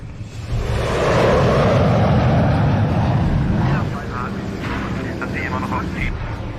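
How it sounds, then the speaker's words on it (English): A German World War II jet aircraft flies past, a loud broad roar that swells and then eases into a steady, slightly softer rush, with no talking over it. "It's a goddamn Nazi plane. We got jets too?"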